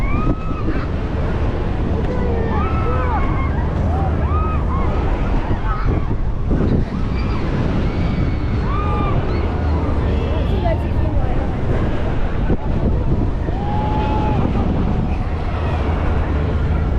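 Strong gusts buffet the microphone in a constant roar aboard the Aeronaut Starflyer swing ride at Hyde Park Winter Wonderland, with voices faintly audible through the wind noise.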